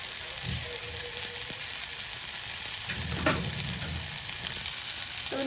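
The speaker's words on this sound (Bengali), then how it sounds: "তো আমি জল দিয়ে দিচ্ছি একেবারে" Water poured into a hot frying pan of cooking food hisses into a steady broadband sizzle, swelling briefly as more water hits the pan, continuous and fairly close with no talk.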